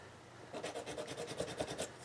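Quick rhythmic rasping strokes of sanding a plastic model part, about a dozen back-and-forth scrapes in a row, close and fairly quiet, with no talking.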